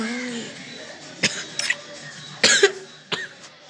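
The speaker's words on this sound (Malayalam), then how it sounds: "മൊത്തം മഴ അതുകൊണ്ടാണ് എൻ്റെ ചുമ" A person coughs several times in short, sharp bursts spaced across a few seconds, close to the microphone over faint background sound from game play.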